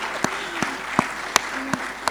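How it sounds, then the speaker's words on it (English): Audience applause in a hall at a Bengaluru skills summit session, steady clapping from a crowd with several distinct sharp claps standing out close by, heard on its own without talk. "Big round of applause."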